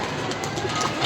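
Pigeons cooing softly amid a steady wash of background noise, a low continuous murmur of birds with no distinct separate calls standing out over the one-second stretch.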